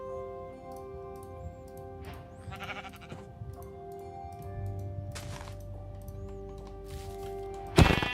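Sheep in a video game bleat several times between quieter stretches, set against a soft ticking background and ending in a sharp loud burst.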